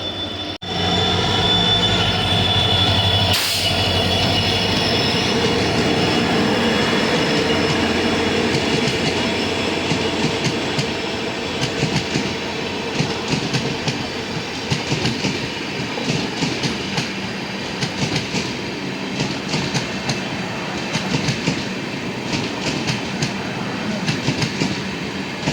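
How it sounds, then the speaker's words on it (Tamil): Tirunelveli to Chennai Egmore express train passing close by, a loud sustained roar with a horn blast near the start, then steady rumbling clickety-clack of wheels over rail joints continuing for over twenty seconds. "Tirunelveli to Chennai Egmore express train வந்துட்டு இருக்குது"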